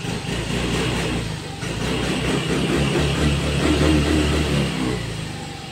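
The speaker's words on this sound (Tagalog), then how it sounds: "Pinaandar natin yung motor" A motorcycle engine with a check engine light on runs steadily close by, with a low rumbling idle that swells into revs and settles back, continuous throughout.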